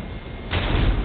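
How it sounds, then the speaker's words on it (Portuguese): A flashbang grenade going off in Call of Duty: Modern Warfare 3, a muffled, dull thump that swells into a sustained, compressed burst of noise, short and fairly loud. "Uma flashbang."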